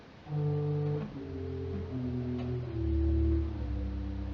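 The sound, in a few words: pipe organ 32-foot resultant stop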